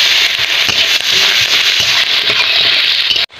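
Chopped onion hits hot oil already holding bay leaf, cardamom and cloves for a Kolkata-style prawn biryani, giving a loud, steady sizzle with crackling pops that cuts off abruptly at the end.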